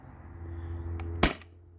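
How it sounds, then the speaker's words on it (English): A modified Sabre 68 CO2-powered gun firing a single shot, one sharp loud crack with a short hissing tail over a low background hum, preceded by a faint click. "So I'm gonna point this in a safe direction and put the CO2 in, so it's in there, and I'm gonna fire,"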